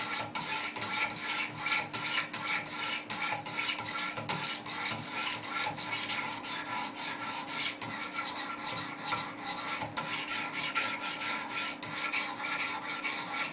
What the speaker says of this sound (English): now we just start the simple process of sharpening and polishing by alternating strokes and cycling through the different grits